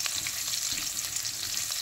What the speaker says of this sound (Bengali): এবার দিয়ে দিলাম কেটে রাখা পেঁয়াজগুলো। এবার এগুলোকে ভাজবো লাল হওয়া পর্যন্ত।